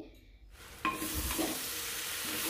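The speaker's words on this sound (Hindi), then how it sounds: "तीन से चार मिनट जितना अच्छे से फ्राई कर लेंगे जिससे कि जो प्याज आलू और परवल है वो थोड़े से फ्राई हो जाए" Onion, potato and pointed gourd fry in a pan with a steady, close sizzle that swells after a quiet start and keeps crackling evenly, with faint stirring scrapes and no voices.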